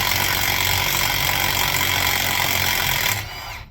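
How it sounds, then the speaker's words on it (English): Impact tool with a 3/4 socket removing half-inch nuts from a military forklift, a steady loud mechanical rattle that cuts off near the end. "So right now we're taking off these 1/2-inch bolts or nuts with a 3/4 socket."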